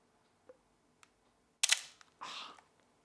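A film camera's advance lever is wound once to move to the next frame, a sharp mechanical ratcheting burst followed by a longer rasping wind, close and loud, preceded by a few faint clicks.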